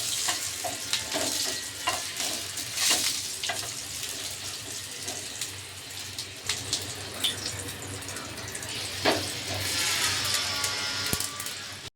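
Tomatoes fry in a pan for a restaurant-style chammanthi, a dense continuous sizzle with popping bursts and occasional scraping stirs throughout, close and fairly loud.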